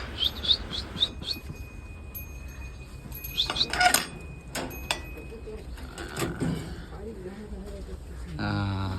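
Short chirps and tweets of pet pigeons and a cockatiel inside a shed, with a sliding door rattling and a person talking over them.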